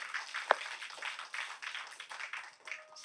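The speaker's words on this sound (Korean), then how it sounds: "우리 하나님께 박수를 광 돌리겠습니다." A church congregation at a Korean Friday night service breaks into steady, dense clapping that is moderately loud and continuous, with one sharper clap standing out near the start.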